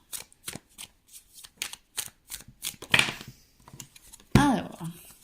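Tarot cards shuffled for a general reading, a string of crisp riffling flicks in a quick irregular rhythm, close and clear, with someone speaking French in between and at the end.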